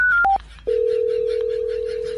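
A telephone gives two quick dialing beeps, then a long steady tone while a call is placed. The tones are clear and alone, with no voices.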